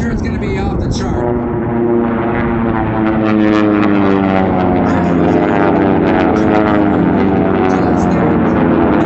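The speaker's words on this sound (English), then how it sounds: "He's up in the aircraft, the white airplane." A T-6 propeller airplane races at an air race, its loud droning engine roaring close and continuous, with a rising, buzzing tone that stays strong for the whole stretch.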